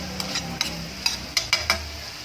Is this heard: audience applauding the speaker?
no